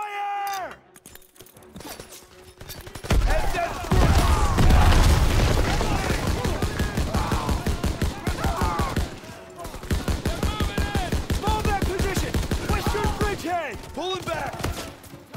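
Heavy gunfire from a Call of Duty WWII battle: loud, sustained bursts of automatic fire and booming blasts that begin a few seconds in and roll on continuously, with voices shouting over the fighting.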